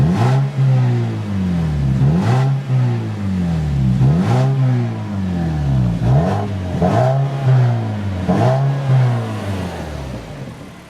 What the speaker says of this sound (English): let me introduce to you the 2-liter Skyactiv engine that is in this particular 3